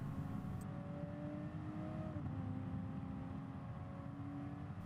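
A Toyota GR Supra in the Gran Turismo Sport racing game accelerates around Mount Panorama, its engine holding a steady, loud drone with smooth pitch shifts as it pulls out of a turn, with no talk over it.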